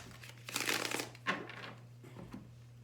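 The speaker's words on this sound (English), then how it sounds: "Sorry about the loud shuffling." Papery crinkling and shuffling of tarot cards, a couple of louder bursts in quick succession, close by with no talking.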